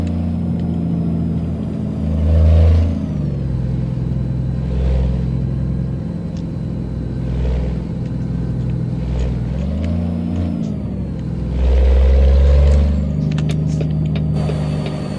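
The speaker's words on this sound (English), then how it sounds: "That is one heavy friggin' truck." A heavily modified Peterbilt 380 truck hauling a heavy load of dry milk rumbles along with a steady low diesel drone, swelling in two louder revving surges as it drives.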